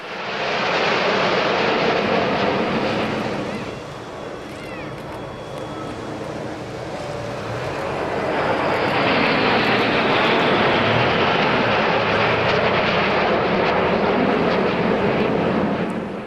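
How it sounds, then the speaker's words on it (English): Polish TS-11 Iskra jet trainers of the Biało-Czerwone Iskry team roar past at the Malta International Airshow 2016, a loud sustained jet rumble that dips briefly and then swells again as the formation passes over. "the TS-11 Iskra jet trainers of Biało-Czerwone Iskry, the white and red sparks"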